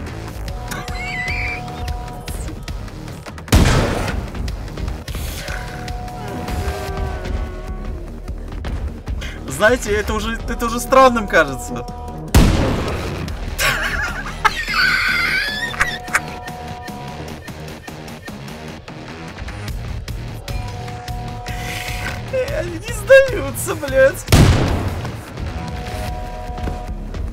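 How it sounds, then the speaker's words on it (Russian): Explosions from the shooter Wolfenstein II: The New Colossus, several heavy booming blasts at irregular intervals amid game noise, with someone talking over them throughout. "Почему они взрывают друг друга?"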